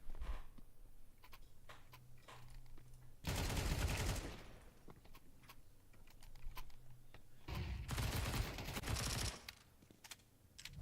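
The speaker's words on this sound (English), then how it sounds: "while he does connect the body shot on Nixon, it needed the headshot to make it through" Gunfire in a Counter-Strike esports match, heard as two loud bursts of rapid automatic shots around the middle and end, with quieter clicks and game sounds in between.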